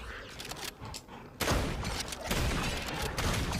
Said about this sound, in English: Kind of want to use my shotgun a little bit here.